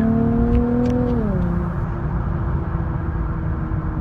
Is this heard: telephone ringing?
no